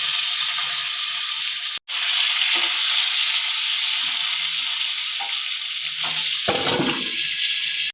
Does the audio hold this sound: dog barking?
no